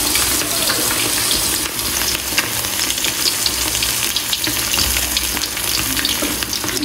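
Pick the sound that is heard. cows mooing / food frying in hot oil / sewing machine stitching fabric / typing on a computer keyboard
food frying in hot oil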